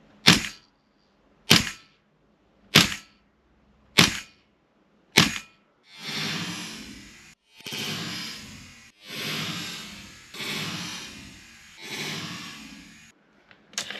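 A Tokyo Marui MWS airsoft rifle fitted with a steel bolt fires five sharp, loud cracks at steady one-second intervals, followed by several longer whooshing bursts of gas venting, close and without talk.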